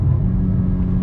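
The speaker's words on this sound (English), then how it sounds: "So the Integra with the manual transmission has automatic rev matching." Engine of an Acura Integra with a manual transmission revving up as automatic rev matching blips the throttle on a downshift from sixth to second at about 45 mph, a steady close, loud low rumble with no talk.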